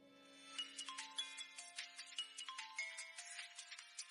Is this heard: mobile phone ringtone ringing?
yes